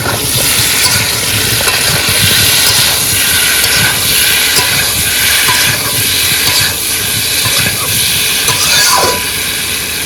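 Water poured into a hot pan of spiced crab masala hisses and steams loudly and steadily, a continuous close sizzle with faint stirring scrapes underneath.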